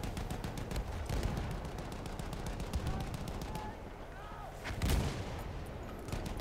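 Rapid, continuous gunfire from a Battlefield 1 competitive Frontlines match, with dense bursts of automatic shots and heavy booms, a loud blast near the five-second mark, under faint commentary.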